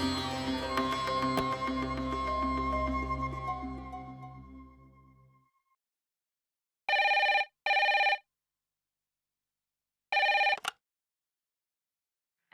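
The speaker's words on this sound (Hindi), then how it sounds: "थैंक गॉड पायल जी, आपने फोन उठा लिया" A telephone ringing with short electronic trills, two quick rings then a pause and another ring, clear and close, following a fading musical passage.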